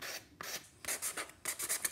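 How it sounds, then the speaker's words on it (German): Hand sanding of a small wooden gift tag with sandpaper, heard as a series of short, close rasping strokes in an irregular back-and-forth rhythm, with brief pauses between strokes and no voices. "Schleife ich mir einfach mal ein bisschen, so dass ich mir keine kleinen Splitterchen einziehen kann oder so."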